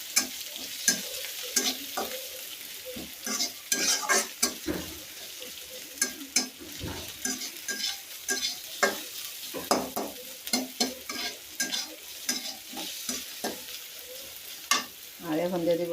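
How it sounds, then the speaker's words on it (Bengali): Chopped onions frying and being stirred in a pan for a village-style dish, a steady close sizzle broken by repeated scraping stirs throughout, with no talking. "পেঁয়াজটা এই যে ভাজা ভাজা হয়ে গেছে"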